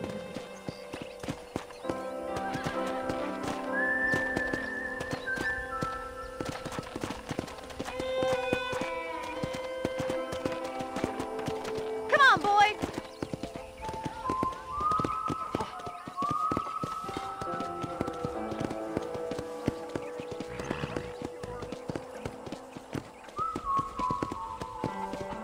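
Steady clip-clop of horse hooves trots along under a light melodic score in Red Dead Redemption, with a brief whinny partway through and occasional voices talking.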